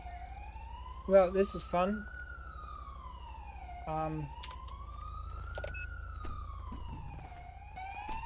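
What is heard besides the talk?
police siren in a video game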